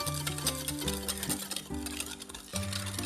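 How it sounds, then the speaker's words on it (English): Close, steady whisking of vegetable oil, granulated sugar and two eggs in a bowl, a rapid scraping patter with light clinks, heard under soft background music. "Just whisk that all together."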